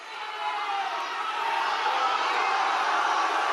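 A live audience reacts with a sustained crowd noise of booing, a dense, loud wash of many voices swelling and holding steady for a few seconds.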